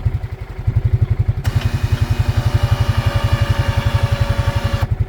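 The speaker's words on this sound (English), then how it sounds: "All right, new winch." A new electric winch on a Can-Am Outlander 700 ATV whirs with a steady whine for a few seconds, then stops, over the ATV engine's close, rhythmic idle.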